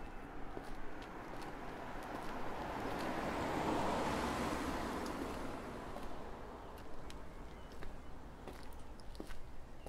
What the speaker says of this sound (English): Especially when it's really windy like this.